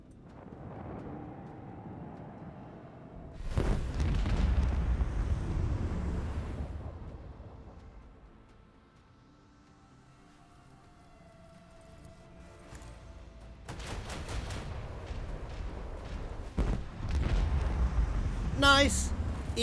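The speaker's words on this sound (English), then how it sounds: "he's lined himself up beautifully for my torpedoes to hit" Torpedoes striking an enemy ship in the Warhammer 40,000: Rogue Trader video game, a heavy rumbling blast and surge that swells loud, fades, then returns with fresh booming impacts and crackling debris toward the end.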